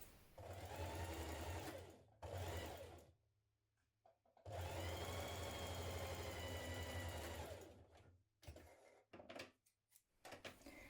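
Sewing machine stitching the shoulder seams of a nightie with a 1.5 cm seam allowance, two steady whirring runs of motor hum, short then long, separated by a pause and followed by light clicks and handling sounds.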